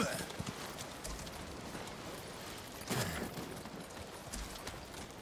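Horse hooves in the Ghost of Tsushima video game clop in a steady rhythm, mixed with a broad noisy game background and a brief louder burst near the middle.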